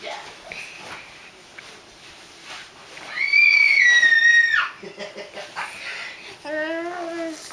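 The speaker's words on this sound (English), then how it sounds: "I like the screeching." A young child playing in a play tent lets out a loud, high, wavering screech lasting over a second. Shorter squeals follow, with quieter voices and rustling around it.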